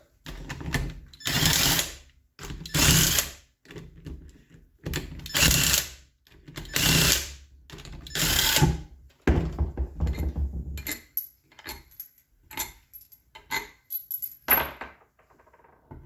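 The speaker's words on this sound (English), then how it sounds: "when you take the bolts out, the body will drop down" Bolts are worked out of a 4L60E transmission case in a series of loud ratcheting bursts, each a second or so long, followed by lighter clinks and metallic taps as parts are handled.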